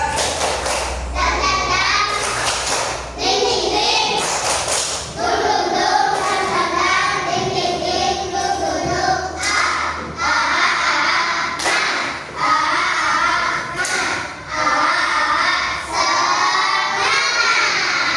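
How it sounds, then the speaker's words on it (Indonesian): A classroom of children joins in a rhythmic 'tepuk semangat' clapping chant during a religious education lesson, sharp claps and young voices shouting in time, loud and close, repeating in bursts across the stretch. "sekarang kita tepuk semangat dulu"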